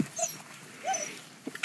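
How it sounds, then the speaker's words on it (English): Hungry puppies whimpering indoors, producing a few soft, high, brief whines separated by quiet gaps, with faint light knocks near the end. "Hungry puppies."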